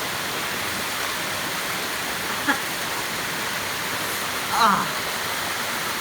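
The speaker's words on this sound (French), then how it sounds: "Let's go dans la cascade latine." A river waterfall roars as steady broadband rushing water, close and loud throughout, with a brief exclamation from a person partway through.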